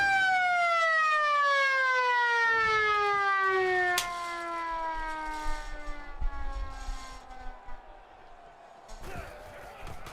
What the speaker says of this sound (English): the touchdown siren